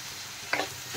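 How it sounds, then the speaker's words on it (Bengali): A spoon scrapes once as spices, salt, turmeric and chilli powder are stirred into finely chopped vegetables in a pan for a Maggi spring roll filling, over a steady low sizzle. "ভালোভাবে মশলা এখন সবজির সাথে মিশিয়ে দেব।"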